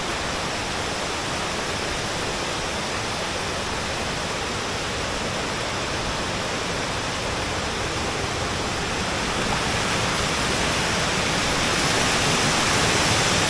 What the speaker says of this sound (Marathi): आता हे आपण पाहतात वाहतं पाणी किती सुंदर वाटतं आहे जो बांध घातलेला आहे त्या बांधावरून वाहणारं पाणी खूप सुंदर दिसतंय